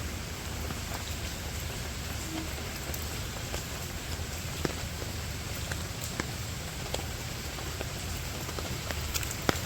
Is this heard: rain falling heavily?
yes